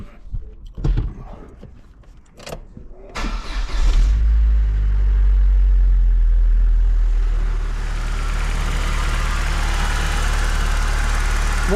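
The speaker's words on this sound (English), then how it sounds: "What a nice quiet engine." A Vauxhall Corsa B engine cranks with a few sharp clicks and clunks, catches, then settles into a steady, fairly quiet idle that holds close and even for several seconds.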